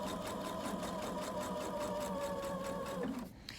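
A sewing machine stitches around a pants waistband in a continuous, steady mechanical whir with rapid rhythmic needle pulses, close and moderately loud, stopping abruptly near the end.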